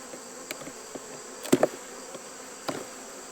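Honey bees drone steadily around an open hive in a West Virginia apiary, a continuous insect hum with a few brief knocks and clicks of frame handling rising above it.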